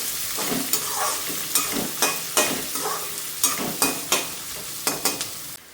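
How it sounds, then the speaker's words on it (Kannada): Onions frying in a pan toward light golden brown, a soft steady sizzle broken by regular scraping stirs about every half second, close and fairly quiet, with no talking. "ಈರುಳ್ಳಿ ಇದು ಚೆನ್ನಾಗಿ ಫ್ರೈ ಆಗಬೇಕು"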